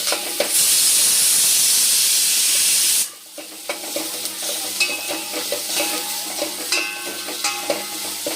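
Chopped onion hits hot oil in a pan with a loud, close sizzle for about three seconds, then settles into softer frying crackle under the scrape and clatter of stirring.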